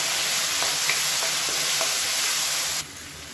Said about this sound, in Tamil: இப்போ தக்காளி நல்லா மசிஞ்சு வந்துருச்சு பாருங்கள், இந்த அளவுக்கு வதக்கிக்கோங்க.